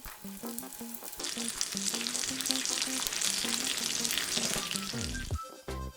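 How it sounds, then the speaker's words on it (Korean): Mozzarella cheese dumplings pan-fry in hot oil, four at a time, with steady loud sizzling and crackling throughout and some clinking of the pan and utensils, plus a brief low tonal thud near the end. "달궈지면 4개씩 올려서 두세 번 뒤집고, 앞뒤로 노릇하게 구워줬다."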